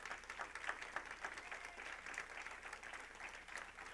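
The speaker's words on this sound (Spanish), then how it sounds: "Denle un aplauso al Señor" A church congregation gives faint, distant applause during a sermon, a soft and continuous patter of clapping.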